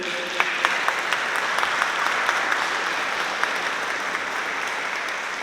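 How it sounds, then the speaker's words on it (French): A church congregation applauds steadily, a dense wash of clapping that holds at an even level throughout, with a few sharper individual claps standing out. "Applaudissez-les."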